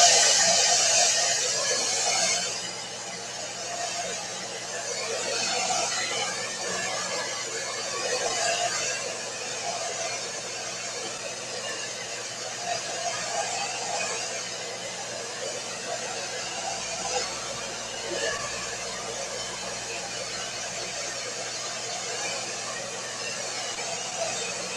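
Hair dryer drying paint on a mixed media clipboard, a steady loud broadband whoosh running continuously throughout with slight fluctuations.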